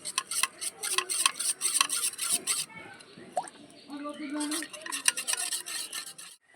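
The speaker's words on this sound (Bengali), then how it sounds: "একটা বাটির মধ্যে দু চামচ কর্নফ্লাওয়ার নিয়ে নিলাম এবারে জল দিয়ে এটাকে গুলিয়ে নেব ভালো করে" Two spoonfuls of cornflour being stirred into water in a bowl with a spoon, giving a close run of soft scraping and light clinking against the bowl, with a brief pause partway through.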